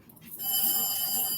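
A telephone rings during a talk on starting a business, its steady electronic tone sounding at moderate volume for a little over a second after a brief quiet start.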